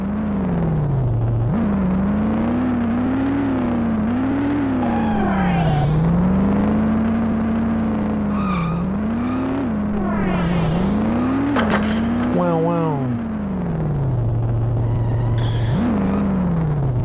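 Buzzing engines of cars in the PC racing game Wild Wheels drone steadily and loud throughout, their pitch rising and falling with repeated revving swells and whirring passes, no talk over them.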